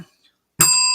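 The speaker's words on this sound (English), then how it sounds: "It's a brand new bell." A brand new bicycle bell gives one sharp ring after a near-silent pause, its bright metallic tone sustaining steadily to the end.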